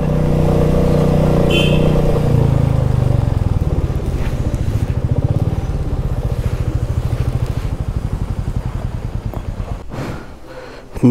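A motorcycle on a hill road near a hotel rumbles as it is brought in and parked, its engine loud and steady at first, then settling to a lower idle before cutting off near the end.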